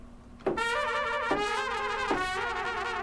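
Brass section playing shake articulations from the Session Horns library: sustained bright chords with quivering, wavering tops, entering sharply and re-attacking twice in steady succession, loud and close with no talking.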